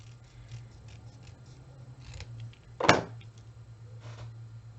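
Small scissors snip once through paper during card making at a cluttered craft desk, a single close, crisp cut standing out against a quiet steady hum.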